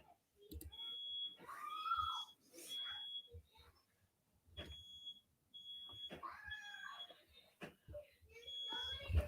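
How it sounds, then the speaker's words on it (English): A smoke detector sounds repeated high-pitched electronic beeps in short bursts during a Disney Lorcana card game event broadcast, mixed with other chirps and background noise. "can anyone else hear my fire alarm going off? The smoke detector?"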